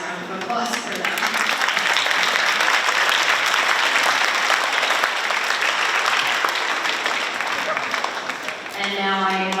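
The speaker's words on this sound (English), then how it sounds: "Round of applause for them." Sustained applause from an audience at a school district strings festival, honoring the student musicians; dense, steady clapping throughout, with some voices mixed in and instrument tones emerging near the end.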